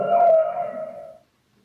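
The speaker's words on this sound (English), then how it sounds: "A whale sounds like this." A Google Home smart speaker plays a whale call: a single drawn-out, wavering moan lasting about a second before it fades into silence.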